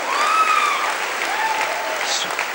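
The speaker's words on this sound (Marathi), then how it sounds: "तुम्ही टाळ्या लगेच मारल्या, कारण मला पुढचं येत नाही." A church audience claps together in a steady burst of applause that carries on throughout, with a voice singing faintly above it.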